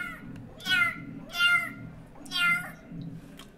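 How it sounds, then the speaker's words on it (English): A cat meows three times in a steady rhythm, each call drawn out and fairly close, with quiet room background between the calls. "It's a cat."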